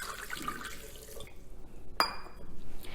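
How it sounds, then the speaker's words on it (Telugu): Water is poured into a blender jar while making a vegetable smoothie, a soft, quiet trickle and splash with a brief sharp clink partway through. "కొంచెం వాటర్ పోస్తున్నానండి"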